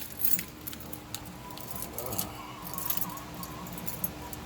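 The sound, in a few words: jangling bunch of Honda car keys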